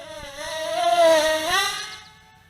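A JJRC/Eachine H8 Mini quadcopter's tiny motors scream up in pitch during a throttle punch. The buzzy, close whine swells, holds, rises again, then fades as the quad pulls away.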